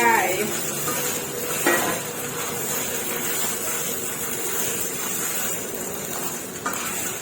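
Thai home-style spaghetti sauce ingredients, with tomato and mushrooms, are stir-fried in a pan: a steady close sizzle and hiss with a few sharp utensil clanks against the pan.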